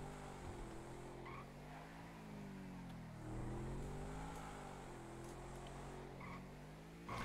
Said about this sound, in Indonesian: Udah kenceng banget nih mobil, tapi remnya nggak makan.